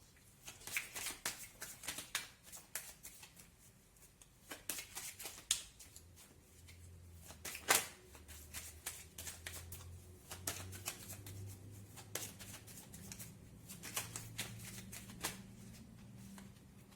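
Tarot cards shuffled by hand in a run of quick riffling and slapping bursts, close and fairly quiet, with short pauses between shuffles and no speech.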